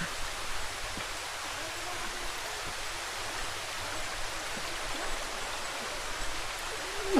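Water rushes steadily near the Bisibis Falls of Cagsiay, a constant broadband roar of flowing stream and falling water close by that holds even throughout, with no talk.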